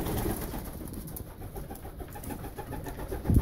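Pigeons in a breeding loft coo in a soft, steady low murmur throughout, with a slightly louder burst near the end and no talking.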